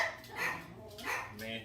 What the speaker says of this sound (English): oh, you hear my dogs